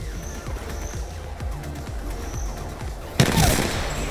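Pistol shots in a video game crack out in a rapid irregular string over a busy background, ending with a sharp louder burst.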